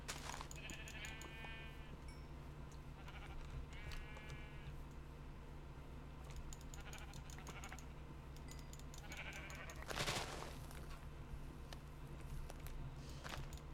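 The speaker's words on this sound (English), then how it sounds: "I'm killing all the sheeps" Sheep in Minecraft bleat as they are killed, several short, quiet, nasal bleats scattered irregularly over a low steady background hum.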